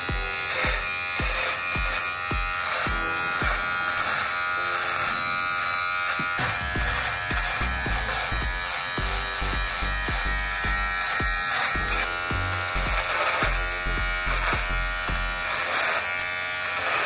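An electric razor shaves a beard close to the mic, a steady buzz that keeps running with shifting pitch as it moves over the stubble, with no talk.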